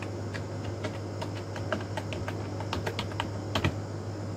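Fingers type steadily on a computer keyboard while entering text in a Canva design, with soft, quick key clicks in irregular bursts and a few louder taps, close and alone over a low steady hum.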